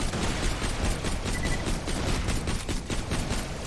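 Rapid, continuous gunfire from Borderlands: The Pre-Sequel, a loud, dense stream of shots with no pauses, close and filling the whole stretch, with no talk over it.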